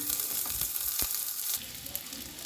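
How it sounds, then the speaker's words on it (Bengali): Cauliflower fries in a pan with a steady, close sizzle and light crackling, easing slightly halfway through when it is turned over; no voices. "একদিকটা খুব সুন্দরভাবে ব্রাউন হয়ে ভাজা হয়ে গেছে, আমি উল্টে দিয়েছি, অন্য দিকটাও আমি এভাবে ভেজে নেব।"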